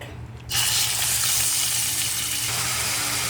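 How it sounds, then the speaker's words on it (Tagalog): Pork dropped into hot oil seasoned with black pepper bursts into a loud, steady sizzle after a brief quieter moment, the frying hiss holding strong and close over a low hum. "Ngayon guys, ilalagay na natin ang ating pork."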